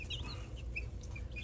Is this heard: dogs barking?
no